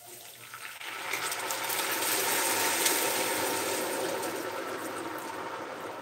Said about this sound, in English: Okay, 4 cups of water.